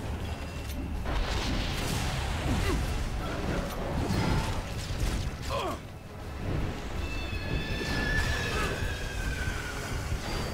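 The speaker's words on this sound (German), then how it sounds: "es ist ein Pferd" Horse-like creature neighing in the video game Shadow Warrior, whinnying cries amid creaking mechanical noise and rumbling combat sounds, with a higher tonal wail near the end.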